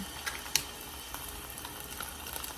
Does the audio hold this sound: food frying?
yes